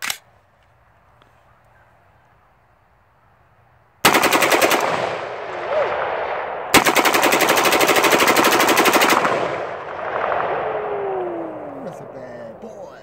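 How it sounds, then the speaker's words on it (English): A select-fire AR-15 rifle fires two loud, rapid full-auto bursts outdoors, each a dense rattle of shots lasting a few seconds, with ringing echo trailing off afterward. "AR-15 select fire."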